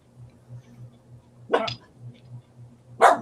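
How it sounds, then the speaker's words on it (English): A puppy gives two sharp little barks spaced well apart over a low, pulsing background hum, close and clear. "Even my puppy missed you. See, he's saying hi."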